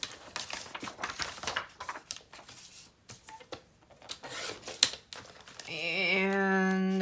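Paper being cut down for an altered file folder desk set craft: a series of quick snips and rustles, close and fairly quiet, followed by a sustained tonal whir near the end.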